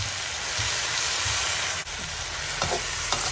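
Sautéed food sizzles steadily in a pan, a loud continuous hiss broken by a few stirring clanks and scrapes near the end.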